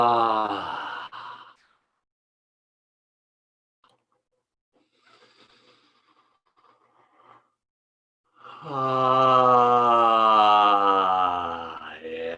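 Two long, deep breaths are let out with voiced, sighing sound, one fading at the start and a louder one after a quiet pause, each close and unhurried.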